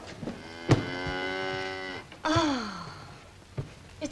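Cattle low on a farm in two long, drawn-out moos, the first steady and the second falling in pitch, fairly close and clear with no talk, a few soft knocks and rustles between them.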